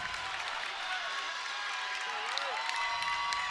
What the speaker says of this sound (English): The PC crowd starting to get into it here.